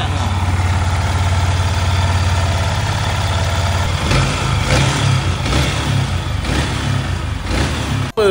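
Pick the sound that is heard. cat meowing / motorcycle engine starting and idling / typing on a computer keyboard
motorcycle engine starting and idling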